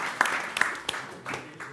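An audience at a tattoo and body art event gives brief, scattered applause, with a few distinct sharp claps over a thin wash of clapping and faint background voices.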